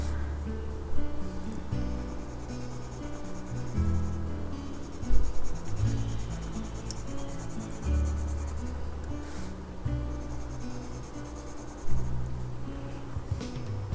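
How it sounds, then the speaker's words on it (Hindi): Pencil shading across a sketching shade card at a 45-degree angle, a steady soft scratchy graphite rasp with light pressure, continuous and close, occasional slightly louder strokes. "आप प्रेशर थोड़ा सा दे पा रहे हो पेंसिल पे, राइट। एंड आप देखो मैं पूरे शेड कार्ड में 45 डिग्री पे शेडिंग कर रही हूँ"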